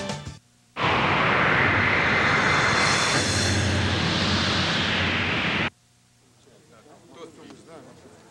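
MiG-29 jet fighters of the Swifts aerobatic team roar past in a loud, steady broadband rush lasting about five seconds, then cut off abruptly, leaving faint background sound.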